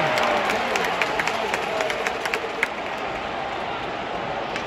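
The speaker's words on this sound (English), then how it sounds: "The crowd didn't like it." Hockey arena crowd at a Panthers vs Edmonton playoff game reacting with a broad roar and scattered claps, a loud steady wash of crowd noise with occasional sharper bursts.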